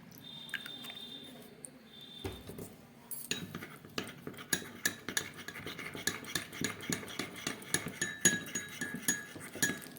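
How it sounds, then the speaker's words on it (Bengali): A spoon stirs a spoonful of cornflour into a little water in a small bowl while cooking chilli paneer, giving quick repeated clinks and scraping taps against the bowl, close and steady with no talking. "এক চামচ মতো কর্নফ্লাওয়ার নিয়ে নিলাম এটাকে একটু সামান্য জল দিয়ে আমি গুলে নিচ্ছি"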